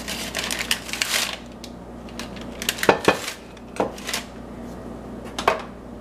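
A knife cuts three scores into a loaf of bread dough resting on parchment paper, giving short crisp scraping and rustling strokes in a few separate bursts, close and moderately loud with no talking.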